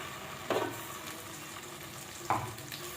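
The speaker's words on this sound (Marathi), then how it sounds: "वाटण टाकून छान असं परतून घ्यायचं आपल्याला मसाल्यामध्ये." Ground spice paste being sautéed in a masala of oil for a spicy mutton curry, a quiet continuous sizzle with two sharp stirring scrapes from a spoon in the pan, no talking.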